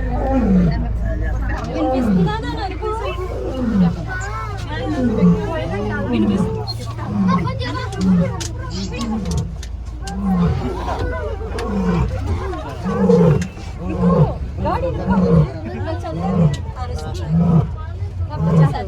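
A lioness at Tirupati zoo roars in a long series of deep, rhythmic grunting bursts, loud and fairly close, while people chatter and talk nearby and a vehicle rumbles at the start.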